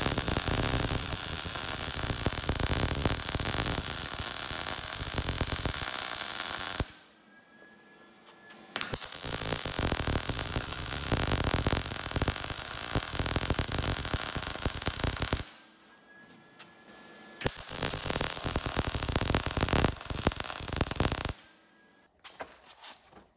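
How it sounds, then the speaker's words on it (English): Arc welding a bolt for a brake booster delete, a loud continuous crackling hiss that runs for several seconds at a time, with two brief pauses between welding passes. "we're gonna go ahead and weld this bolt on here"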